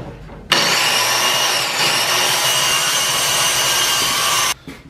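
A power saw cuts plywood plates for a homemade buffer box, giving one loud, continuous rasping whine that starts abruptly, holds steady for about four seconds, then stops sharply.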